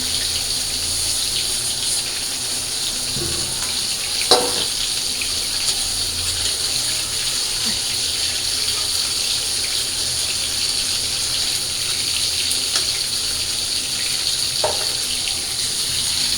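Water pours steadily into a pot of spiced potato curry, a continuous gushing stream with a couple of faint clinks, and no one talks.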